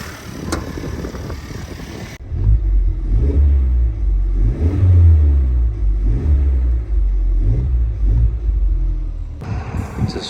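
A Honda Civic Type R idles close by after a rebuild, a low rumbling engine with gentle surges and dips, fairly loud and steady.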